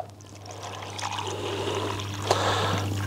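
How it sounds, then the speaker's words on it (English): Cold tap water, about 400 ml, pours into a pot beside an alcohol stove, a steady close trickling splash that gradually builds in level, with a constant low hum beneath. "let's get the water in"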